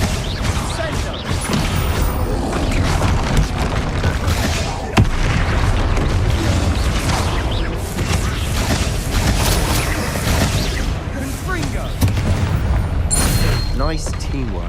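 Spell blasts from a troll fight in the Hogwarts Legacy video game boom repeatedly over a dense, loud layer of game music and effects, with voices calling out during the battle.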